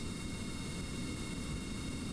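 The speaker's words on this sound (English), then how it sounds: "And let's try all the engines." Aircraft engines run in a video game as a steady, faint, broadband roar with a thin constant whine, unchanging and with no talk.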